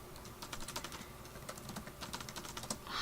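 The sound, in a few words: typing on a computer keyboard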